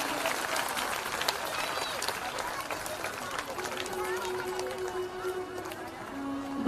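Audience at a Shrimad Bhagavat Katha gathering claps loudly and steadily for a visiting Ram Katha narrator from Raigarh, a sustained dense wash of applause with crowd noise throughout.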